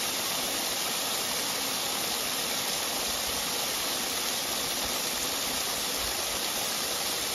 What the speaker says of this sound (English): We got the water running through it.